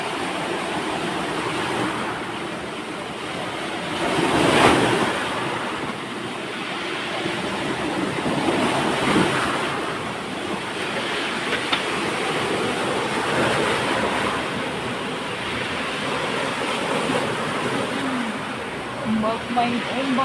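Ocean waves roll and break near a spearfishing spot, a broad rushing wash that swells and recedes over twenty seconds, with a voice heard at times.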